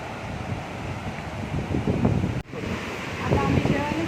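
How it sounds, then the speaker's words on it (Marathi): Flowing water of a small stream rushes as a steady broadband wash throughout, with wind noise on the microphone and brief voices in the background. "पाण्याचा आवाज आहे बघा."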